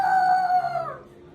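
A single loud, close rooster crow rings out clearly on its own, holding a bright sustained note before trailing off and fading within about a second.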